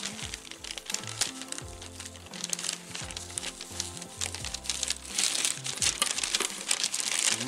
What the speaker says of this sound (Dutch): Het papiertje. Die gaan we uiteraard natuurlijk weer eventjes losmaken.